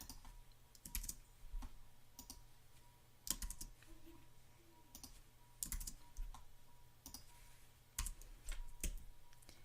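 Letters tapped one at a time on a computer keyboard, producing irregular bursts of light clicks with short pauses between them, close and quiet against faint room noise.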